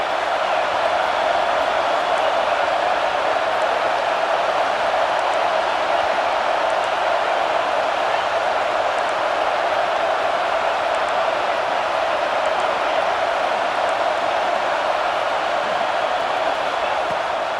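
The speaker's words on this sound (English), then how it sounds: "The Buckeye crowd alive on third down." A dense, steady roar from a packed Ohio State Buckeyes stadium crowd in EA Sports College Football 26, a continuous wash of cheering noise held at even loudness for the whole stretch.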